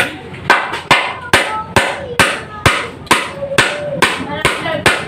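A blacksmith hammers metal at a village forge with a steady series of about a dozen sharp, ringing blows at a quick, even rhythm, close and loud.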